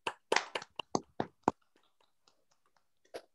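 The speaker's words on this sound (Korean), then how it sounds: "박수로 환영합니다." Sparse applause from a small gathering at a prayer school session, a handful of separate hand claps close together that quickly thin out to a few scattered taps before one last clap.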